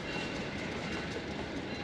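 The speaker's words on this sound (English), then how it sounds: "Here you go, a whole train load." Railroad cars of the Durango and Silverton narrow-gauge line in Colorado roll steadily past close by, a continuous rumbling clatter of wheels on track with no voices.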